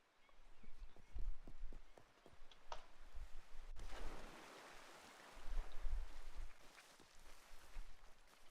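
Horse hooves clip-clop in a roleplay video game near a river, a run of distinct hoof strikes, then a burst of splashing water and more hoofbeats, fairly faint throughout.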